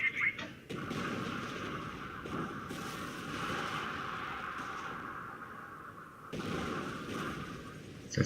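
Artillery fire in Company of Heroes, a steady rumbling barrage of dull booms under continuous battle noise, with someone commenting over it.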